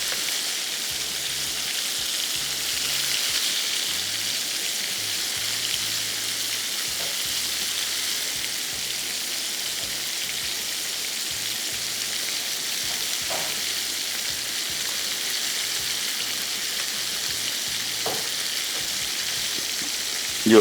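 Beef pieces fry steadily in a pan, a continuous close hiss and crackle with a few sharper pops, lasting the whole stretch without speech.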